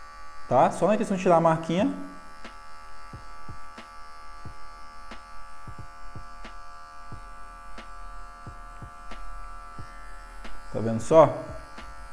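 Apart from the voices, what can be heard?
electric hair clipper without guard trimming afro hair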